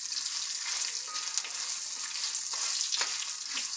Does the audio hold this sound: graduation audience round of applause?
no